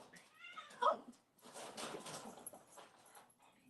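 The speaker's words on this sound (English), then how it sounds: "you cats, stop fighting" Indoor cats squabble near a Christmas tree, with a sharp meow and yowl followed by scuffling and rustling, fairly faint and uneven.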